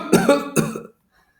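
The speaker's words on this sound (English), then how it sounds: "My cough became continuous" A person coughs twice in quick succession, close and fairly loud, each cough harsh and voiced, followed by silence.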